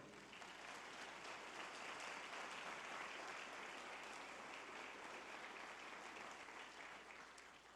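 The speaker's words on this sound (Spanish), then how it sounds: "Denle un aplauso al Señor" A church congregation gives sustained applause, a continuous wash of many hands clapping at even loudness throughout. It sounds faint and somewhat distant, with no clear voices over it.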